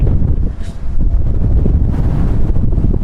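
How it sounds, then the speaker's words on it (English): Strong coastal wind at Emu Park batters the microphone in heavy, rumbling low-pitched gusts that swell and buffet continuously, loud and close, with no voices. "I'm going to take a guess that you can't really hear me over this wind"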